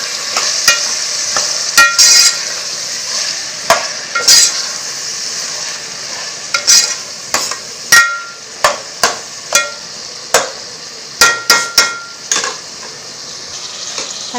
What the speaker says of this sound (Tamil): இன்னும் கொஞ்சம் வெங்காயம் வதக்கணும், லைட்டாக வதங்கினா போதும்.